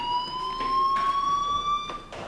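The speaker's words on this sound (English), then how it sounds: "do you hear that fire alarm?" Fire alarm in the video game Life is Strange, a steady high electronic tone with bright harmonics sounding continuously and loudly throughout, with faint background rustles.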